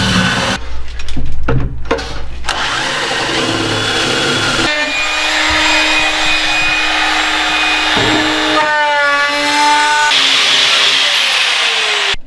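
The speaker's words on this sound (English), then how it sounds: "Now I can put the rest of the screws in." Power drill driving screws into soft cedar boards in a woodworking shop, heard as several short bursts of motor whine with pauses between them, loud and close, with no talk.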